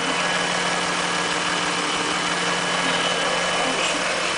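A 2011 Chrysler 200 engine idles steadily after an oil cooler gasket repair, a loud, even mechanical drone with constant hum and no talking.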